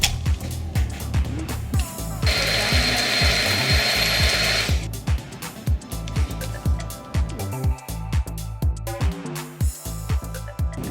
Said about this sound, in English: Next, I added the water and berries and blended it together.